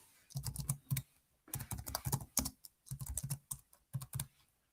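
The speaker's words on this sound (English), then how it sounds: "Let me type you in." Computer keyboard being typed on in bursts of rapid, close keystrokes separated by short pauses, moderately loud with no talking over it.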